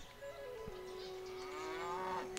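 A single drawn-out cow moo from the Civilization V video game sounds clear and alone, with a steady tone over faint background game ambience.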